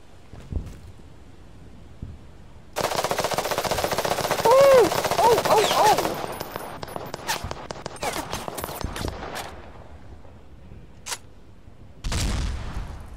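Heavy automatic gunfire from a bigger gun in the video game Fog of War, long dense bursts with booming shots, then scattered single cracks and a final loud burst near the end, with a voice talking over parts of it.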